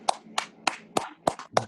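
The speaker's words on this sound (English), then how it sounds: "Everybody get the clap for retirement." Six evenly spaced claps ring out in a slow steady rhythm for a retirement, each sharp and close, with light room noise between them.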